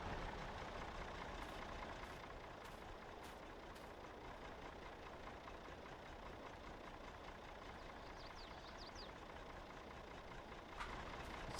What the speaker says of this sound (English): let's back the service truck up on the left side of the excavator